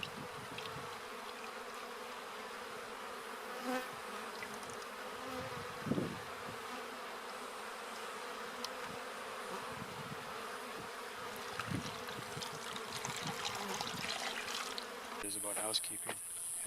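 Bees buzzing around their hive at an off-grid homestead, a constant close hum with individual insects droning past, and occasional faint background noises.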